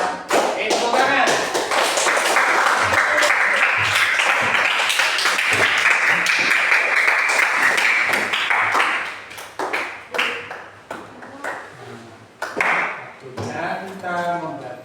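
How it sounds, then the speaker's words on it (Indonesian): A classroom of children claps in a quick, dense burst of applause that then breaks into scattered rhythmic claps and taps, with voices talking in the room. "Tepuk tangan."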